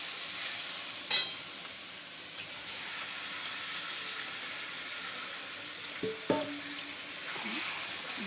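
Yogurt-marinated meat and potatoes sauté in a pan for home-style biryani, a continuous soft sizzle with a few sharp clinks of a spoon against the pan.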